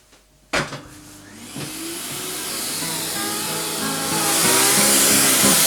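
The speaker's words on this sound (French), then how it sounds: "pour ça nous allons utiliser l'aspirateur avec la brosse" A vacuum cleaner with a brush attachment, used to clean dust from a laptop, switches on with a sharp thump and settles into a steady, loud roaring whine that grows slightly louder and brighter as it runs.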